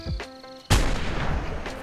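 A single loud gunshot from a gun in Fallout New Vegas played in VR, a sharp close crack followed by a rolling echo, with faint clicks and handling sounds before it.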